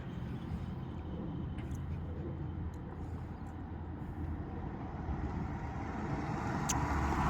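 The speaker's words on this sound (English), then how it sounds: "Let's see if she heard this car coming up." A vehicle engine rumbles steadily, growing slightly louder toward the end as it nears, with faint distant noises above the low drone.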